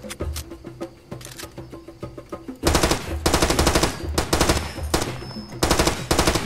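Rapid bursts of machine gun fire in Far Cry 2 rattle loudly in quick succession, interspersed with clicks and short pauses, sounding like game gunfire.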